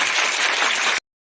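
Loud, dense applause from an audience at a police-organised student debate competition in Ramban, sustained for about a second and then cutting off abruptly into silence.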